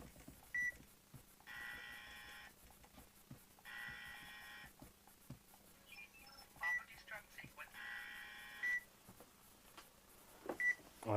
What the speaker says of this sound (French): la bombe est amorcée, des petits bips, elle commence à faire son boulot.